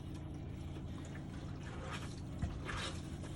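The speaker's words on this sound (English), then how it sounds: "I opened up the drains here. I've got water coming out." Steady rush of running water pouring and trickling out of opened drains during a failed winterizing, continuous and fairly close, with a small splash near the end.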